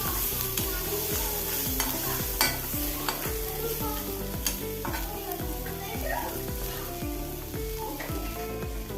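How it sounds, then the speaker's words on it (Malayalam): Curry leaves and onions fry in a pan with chilli powder while a spoon stirs briskly, producing rhythmic scraping strokes over a constant crackling sizzle close by. "കറിവേപ്പില ഇട്ട് നല്ലപോലെ എല്ലാം മിക്സ് ചെയ്യണം"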